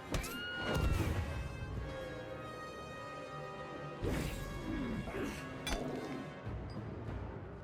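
A horse whinnies amid a battle in the video game Banner Saga 3, with a clear neigh near the start followed by clashing hits, smashes and further cries over a busy game soundscape.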